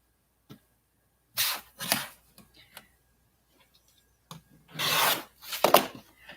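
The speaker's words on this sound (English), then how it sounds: "So I'm just cutting up ties and thought y'all might like to watch me cut up ties." Silk neckties being cut up with scissors, a few short close snipping and rubbing bursts of fabric separated by silence.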